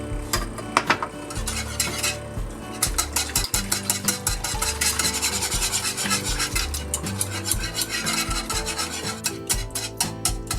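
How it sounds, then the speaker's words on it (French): A utensil stirs and scrapes pieces of foie gras into a hot sauce base in a pan, a rapid rhythmic rubbing and clinking close up with a faint sizzle underneath. "on va délier le foie gras dans cette base chaude"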